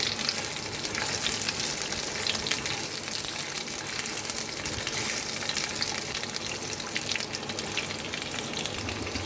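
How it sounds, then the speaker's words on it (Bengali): Mango pieces frying in oil for a sweet-sour pickle, a dense continuous sizzle and crackle from the pan with faint stirring, close and alone. "এবার তেলের সাথে খুব ভালো করে আমটা মিশিয়ে নিয়ে বেশ খানিকক্ষণ ভাজবো, যাতে আমটা একটু মজে যায়।"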